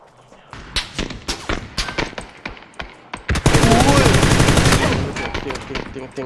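Video game machine gun fire in a first-person shooter, with scattered single shots giving way to a sustained loud automatic burst midway, while players talk over the shooting.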